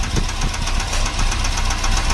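Close, loud Suzuki Carry engine idling, running rough after a piston ring replacement, with a rough, rhythmic knocking tapping through a steady rumble, no voices.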